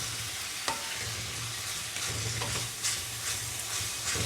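Sautéed cabbage, arugula and pak choy sizzle in a pot while being stirred, soft scraping strokes recurring over a steady quiet fry.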